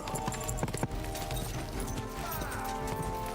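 Hooves of a horse in the Kingdom Come: Deliverance II game clip-clopping in a quick rhythm, close and clear over a faint background bed.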